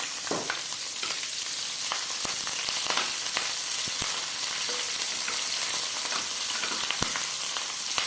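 Green chillies frying in a pan for pickle, a steady close sizzle with scattered crackles and pops running the whole time, no voices.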